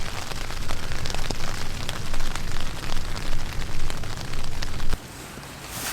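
Dense, steady roar of heavy rain with hail pattering and clattering across a surface at a beach campsite, constant and loud, easing abruptly near the end.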